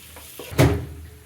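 Fried chicken pieces stirred into a ghee roast masala in a pan, heard as one brief scraping, clunking thud with a short sizzling tail, alone and close.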